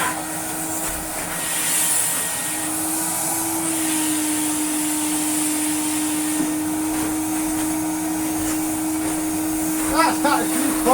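Eureka Forbes Euroclean 2000 vacuum cleaner running steadily with its floor brush fitted, a loud continuous motor whine and airflow hiss throughout, with brief rattling knocks near the end.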